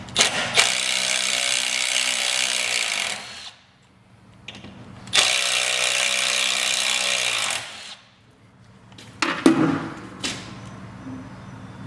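A ratchet works loose the Loctite-coated running board bolts on a Ford F-150, giving two long bursts of rapid clicking, each a few seconds long, close and loud, with some clanks and handling noise after.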